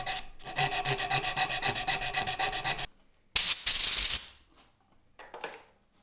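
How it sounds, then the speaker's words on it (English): Sandpaper rubs back and forth over tight-fitting wooden joinery pieces in rapid, steady strokes for about three seconds, then a short, harsher burst of rasping follows, with a few faint scrapes at the end. "this will be solved with a few passes with the sandpaper"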